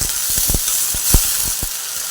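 Chickpea leaves hit with a sprinkle of water in a hot pan burst into a loud, steady sizzle and hiss, broken by several sharp spitting crackles close by, with nobody speaking.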